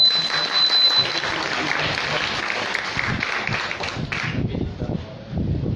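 An audience at a talk on COVID vaccines claps hands in a dense burst of applause that thins out toward the end, with faint voices and low rumbles underneath.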